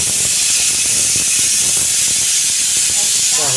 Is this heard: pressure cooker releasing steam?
yes